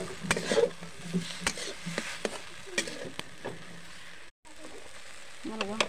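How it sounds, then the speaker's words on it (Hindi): Masala fries in a pan over a village kitchen fire, a soft sizzle broken by sharp scrapes and clanks of a ladle stirring, with brief faint background sounds and one short dropout. "क्या मस्त फ्राई हो रहा है, मसाला को भून लेते हैं।"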